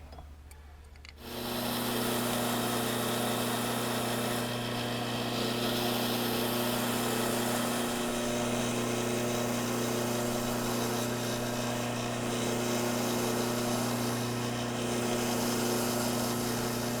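Horizontal small-wheel grinder spinning up and running steadily while grinding a liner lock knife, a loud continuous high-pitched whine with a constant motor hum, close by and without talk.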